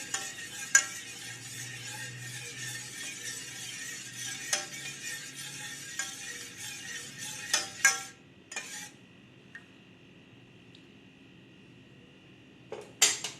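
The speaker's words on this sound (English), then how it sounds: "Let's stir it properly." Milk for bread rabri being stirred in a pan, soft scraping and faint clinks of a utensil against metal in a quiet kitchen, with a few sharper knocks and a lull near the end.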